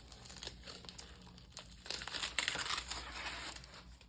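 Sticky tape being peeled and crinkled off old music score paper, a close, quiet stretch of crackling and rustling that builds toward a denser crinkle near the end.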